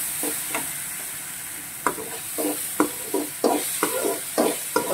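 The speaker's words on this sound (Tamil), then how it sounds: "பார்த்தீங்கன்னா நல்லா ஃப்ரை பண்ணி எடுக்கிறேன் நான் இதை." Banana stem and lentils frying in a pan: a constant bright sizzle with repeated scraping stirs of a spatula against the pan, close and alone.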